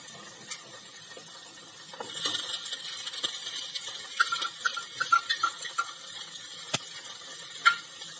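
Ginger garlic paste sizzles gently with onions in a pan, with intermittent metallic clinks and scrapes from stirring, close and fairly quiet with no talking.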